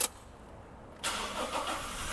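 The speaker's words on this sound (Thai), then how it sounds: "เดี๋ยวมาลองสตาร์ทเครื่องกันหน่อยดีกว่านะฮะฟังเสียงเครื่องยนต์กัน" A brief quiet pause, then a Toyota Hilux Revo diesel pickup truck engine cranks and catches, settling into a steady idle nearby.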